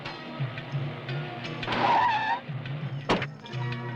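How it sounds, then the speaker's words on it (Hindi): A car braking to a stop, engine idling low before a brief tire squeal mid-way, then a sharp thump and the engine settling back to a steady idle nearby. "हाँ, 1 मिनट गाड़ी रोको।"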